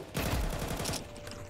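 Rapid burst of gunfire in Counter Strike 2, a dense volley of close, loud shots lasting about a second before trailing off into quieter game ambience.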